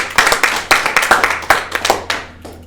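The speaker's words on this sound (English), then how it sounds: "So a big round of applause, please." Applause for a podcast guest from a small group, about a dozen close, distinct hand claps in an uneven rhythm that slow and fade out.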